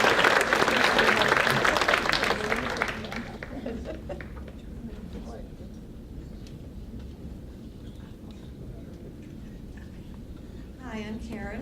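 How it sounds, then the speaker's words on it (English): A crowd applauds at a Bergen Community College event for the Turning Point program: dense, loud clapping for about three seconds that quickly thins and fades into a quieter room with scattered voices. "Let's hear a round of applause"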